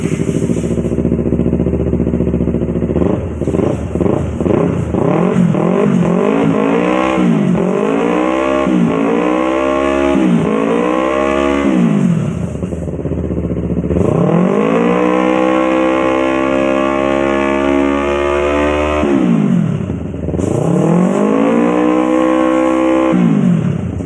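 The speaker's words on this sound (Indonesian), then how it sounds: "Ini kita nyalakan motor dan lihat untuk pengisian." A Yamaha R25 motorcycle with a burnt regulator-rectifier socket idles close by and is repeatedly revved, engine pitch climbing and falling in a series of sharp throttle blips followed by longer sustained revs.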